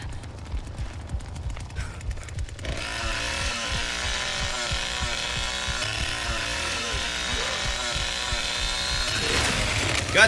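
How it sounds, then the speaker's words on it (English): A chainsaw revs continuously, loud and buzzing, in The Texas Chainsaw Massacre video game, with a harsher, denser roar from about three seconds that keeps building to the end, set over game sound effects. "That's why you charge up the chainsaw."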